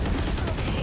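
Rapid gunfire in a Valorant deathmatch, a dense, continuous burst of shots lasting under a second, close and loud with no talk over it.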